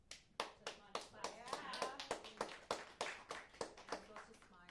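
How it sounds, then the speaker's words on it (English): A small audience at a meeting claps in a sparse, rhythmic way, distinct individual claps about three per second, close and clear, with some voices underneath. "So come on, clap."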